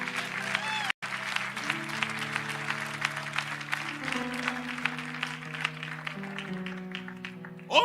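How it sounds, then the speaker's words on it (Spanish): A church congregation applauds during an evangelistic service, a steady patter of clapping running alongside sustained music for several seconds, with a brief break near the start. "Dele fuerte ese aplauso si conoce a Chepe."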